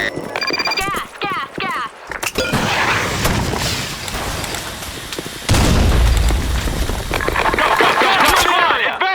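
A grenade detonates in the shooter game Blackshot, a loud broadband boom that bursts in and then trails off, with a second heavy blast late on, surrounded by frantic shouting from players and busy game effects.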